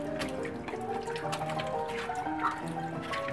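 Water running from a tap while cassava is peeled in a kitchen, a steady splashing flow with small drips and clinks, fairly quiet and close.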